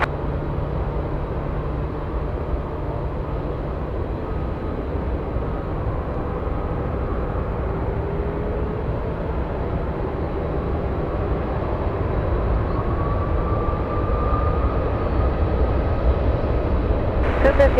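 An airplane takes off from runway 7 left at Anchorage, heard as a steady, broad, distant engine roar that holds for the full length with slight drifting tones over it.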